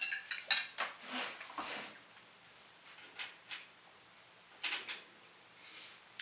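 Endives being cut with a knife, soft scattered taps and light clinks of the blade on a board or plate, quiet and close with gaps between strokes.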